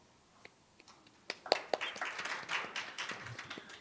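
Applause welcoming a guest speaker at a formal seminar hall, starting with a few scattered claps and swelling into steady clapping from the audience over several seconds, moderately distant.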